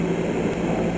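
Rocket engines roaring at liftoff in the 1985 Commodore 64 game The Day After, a steady, loud synthesized rumble with a low droning hum and hiss running unbroken throughout.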